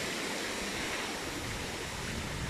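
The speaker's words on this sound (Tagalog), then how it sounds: "Buti hangin lang ho, malakas yung ulan" Heavy typhoon rain and wind from Typhoon Ulysses pour down in a steady, dense broadband roar, unbroken and loud throughout, with no voices.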